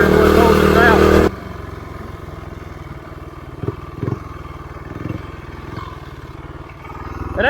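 A quad ATV engine, its torque converter suspected of holding it back, idles with a rough chug and a few short revs after a loud burst at the start, while people talk over it.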